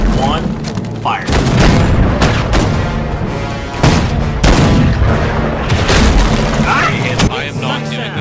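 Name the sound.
weapons firing in Battlefield video game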